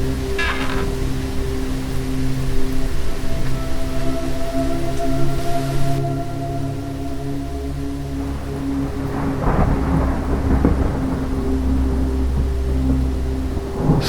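Heavy rain pours steadily in a windy storm, with a low rolling rumble of thunder and a denser burst of rain toward the end, continuous and moderately loud with no voices.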